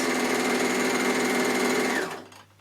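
A fast mechanical whir of a Bernina overlocker stitching a rolled hem steadily, then winding down and stopping near the end, heard alone.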